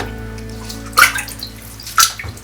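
Water sloshing and splashing continuously as media from an external aquarium filter is rinsed in a container of tank water, with two sharper splashes standing out.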